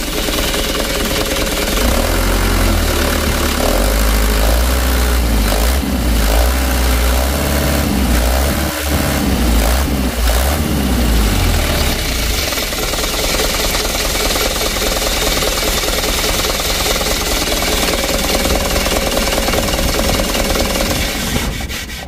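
A Mitsubishi Canter truck diesel engine that is slow to drop from high revs runs loud and close, rough and rumbling, with heavy revving surges early that then settle into a steady, harsh drone.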